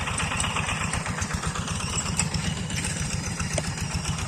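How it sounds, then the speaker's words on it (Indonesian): A rice field reaper machine's engine idles close by, a steady rapid mechanical chug and rattle running unbroken throughout with no voices. "Reaper dari Mang Asep sudah kelelahan ya"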